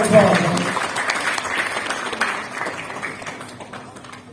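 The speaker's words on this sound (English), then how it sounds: "Round of applause." Audience applause at a US Embassy Kuala Lumpur special presentation, a steady wash of clapping that is loudest at the start and gradually thins out over about four seconds, with a voice faintly audible underneath.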